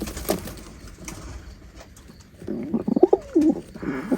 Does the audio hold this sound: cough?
no